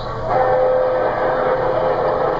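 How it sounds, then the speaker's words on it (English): LGB garden-scale model trains run on a large layout, twelve able to run at once, producing a steady mechanical hum and rolling rumble with a sustained whistle-like tone, close and continuous. "now we can run 12 trains at the same time, 6 on each side"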